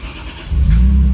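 A Toyota Altezza / Lexus IS300 engine is started without a key. After a short quiet cranking moment it catches and breaks into a sudden loud, low, close rumble.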